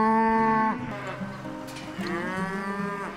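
Angus cattle grazing on grassy fields let out two long, loud, close moos one after the other, the second a drawn-out bellow lasting over a second.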